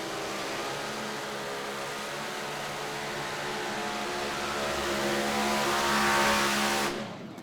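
A Pro Stock pulling tractor roars at a tractor pull in Henry, Illinois, its engine note climbing steadily to a loud, strained peak before cutting off abruptly near the end.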